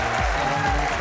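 A snooker crowd at a World Grand Prix semifinal breaks into brief, dense applause, a short burst of clapping heard at moderate loudness over a faint background murmur.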